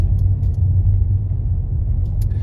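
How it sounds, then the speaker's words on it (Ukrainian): A car moving slowly at about 10 km/h along a Kyiv driving test route, heard as a steady low engine and road rumble from inside the cabin, loud and continuous, with a few faint ticks above it. "От ми зараз продовжимо рух, і швидкість по спідометру я спостерігаю 10 км за годину."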